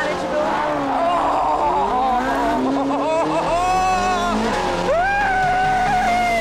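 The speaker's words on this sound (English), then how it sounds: "A red Ferrari in Italy on mountain road." Red Ferrari 458 Spider driven hard on an Italian mountain road, its engine note rising and falling through the corners, loud and close, with a brief exclamation from the driver over it.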